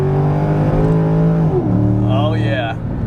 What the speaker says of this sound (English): All right, oh, we broke traction.